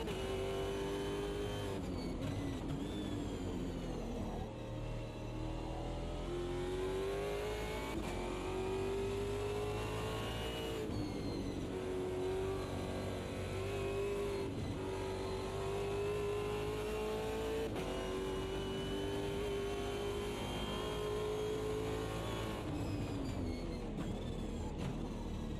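A 1936 Delage 15S8 race car in a racing video game, circuit Fuji 1968 GP: a loud engine revs up and down continuously through gear changes, with repeated rising pitch sweeps and brief lifts, close and unbroken for about twenty-five seconds.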